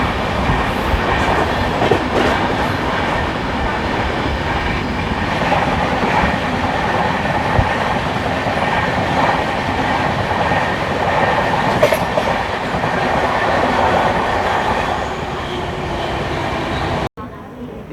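The 12071 CSMT Mumbai–Hingoli Deccan Janshatabdi Express runs along the rails with a continuous loud rumble and clatter heard from on board, cutting off abruptly near the end.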